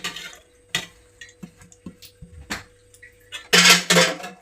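Onion, carrot and idli batter being mixed in a bowl with a spoon, giving scattered close clinks and taps against the bowl and then a louder, rougher scraping burst near the end.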